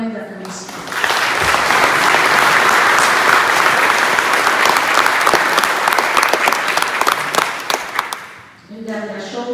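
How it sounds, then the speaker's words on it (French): A crowd at a country-themed Mass gives a long round of applause for the decor committee, technicians and celebration team, dense clapping that rises quickly, holds loud and then fades as a voice comes back. "Je crois qu'ils méritent tous une bonne main d'applaudissements."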